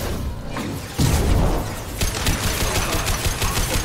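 Gunfire rings out in Mass Effect Legendary Edition on Insanity difficulty in Illium, loud rapid bursts with a heavy impact partway through, followed by sustained crackling shots and no talk over it.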